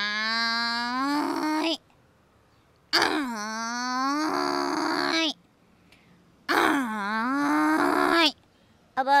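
A woman imitates a buffalo with three long, deep, moaning lows, each lasting a second or more and separated by short silent gaps, loud and close.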